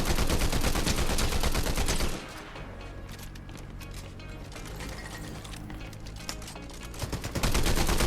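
Fortnite gunfire in zero build solo tournament play: a loud rapid automatic burst at the start, then quieter mechanical clicking and scattered shots, with heavy firing returning at the end.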